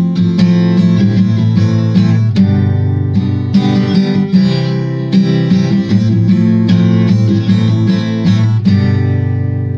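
Acoustic guitar strums the chorus of a song in a steady, driving rhythm with sharp downstroke accents, played close and loud without any voice.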